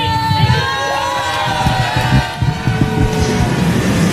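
Crowd shouting at an outdoor rally where a Christian minister is preaching, a loud continuous roar of many voices with jeers and yells overlapping near and far.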